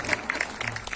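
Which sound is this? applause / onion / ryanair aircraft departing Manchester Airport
applause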